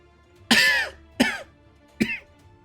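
A voice imitates coughing in three harsh, throaty bursts spaced about a second apart, the first longest and loudest, with quiet between them.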